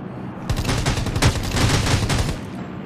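Gunfire in the mobile battle royale game Rules of Survival, a rapid close burst of automatic shots lasting about two seconds, loud and sharp with no talk over it.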